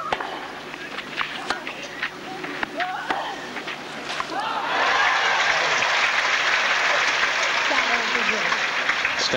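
At the 1996 French Open women's final in Paris, scattered stadium noise and a commentator's voice give way halfway through to a swelling, sustained wave of crowd applause that continues to the end.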